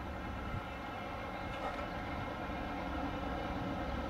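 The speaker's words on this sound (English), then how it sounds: "Have an eastbound CSX train." An eastbound CSX freight train rumbles past the Depew Amtrak station in a continuous, even roar of wheels and cars, moderately distant, with no pauses.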